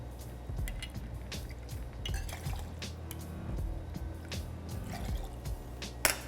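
Gin poured over fresh squeezed lime juice and simple syrup in a cocktail mixing glass, a quiet trickling splash with small drips and a light clink of glassware and bar tools close by, no voices.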